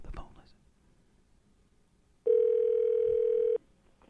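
A telephone rings once on a call during a rock radio morning show, a single loud, steady electronic tone lasting over a second after a brief murmur of voices, then quiet.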